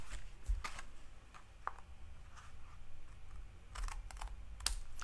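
Paper is cut by hand for a card-making project. Soft, close, scattered cutting and rustling sounds come in irregular short bursts over a quiet room.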